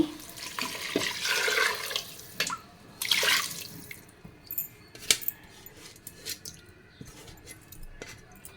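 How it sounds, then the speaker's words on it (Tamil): About three and a half cups of water poured over rice in a pressure cooker for mint pulao, two splashing gushes near the start followed by scattered drips and small knocks. "தண்ணி ஊற்றியாச்சு"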